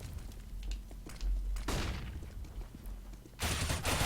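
AK rifle fire in Counter-Strike: Global Offensive during an ESEA Premier esports match: rapid, punchy bursts of shots crackle close by, repeated several times with short gaps between them.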